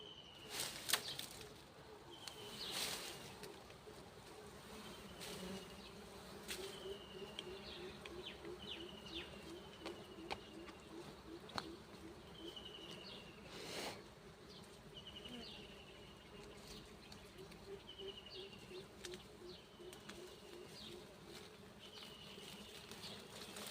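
Dwarf honey bees hum softly around a young nest full of honey, a faint continuous buzz with occasional passing insects close by and distant bird calls scattered over the top.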